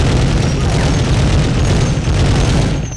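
A big mounted gun fires in the Medal of Honor video game, a loud, dense, continuous pounding of booms close up that masks everything else for the whole stretch.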